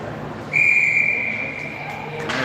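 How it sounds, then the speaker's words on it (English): A referee's whistle at a youth hockey game gives one long, piercing blast lasting nearly two seconds over a low arena murmur, with a short sharp sound near the end. "All right, there's that whistle."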